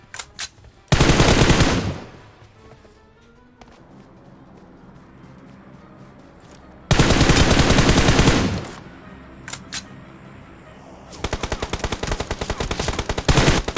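Loud bursts of automatic rifle fire from PUBG Mobile come in three separate volleys: a short burst early, a longer one midway, and a closing stretch of rapid, evenly spaced shots. Quieter gameplay noise fills the gaps between them.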